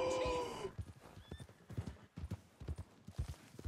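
Horse in Red Dead Redemption 2 letting out a sharp whinny, followed by rapid, irregular hoofbeats of galloping on ground, close and fairly loud with a short gap between strides.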